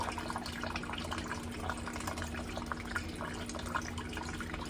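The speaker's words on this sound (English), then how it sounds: "just pour right over the top of the cheese grater as you're going with it. It'll collect most of the pulp." Cantaloupe lemonade poured over a cheese grater to strain out the pulp gives a steady, soft trickle of liquid with faint drips and splashes, quiet and continuous without talk.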